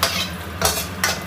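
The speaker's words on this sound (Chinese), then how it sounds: "放入咸肉，咸肉我都给它切成薄片了，稍微给它翻炒翻炒，这个炒干炒出油就可以了" Thin slices of salt pork with ginger and garlic are stir-fried in a little oil in a wok; three loud tossing, scraping bursts rise over a continuous low frying hiss.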